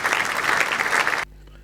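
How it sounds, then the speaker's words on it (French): An audience at a press event in the DRC claps in a dense, steady burst of applause that stops abruptly after about a second. "merci d'accueillir sous vos applaudissements Monsieur Louis-Michel Moindo"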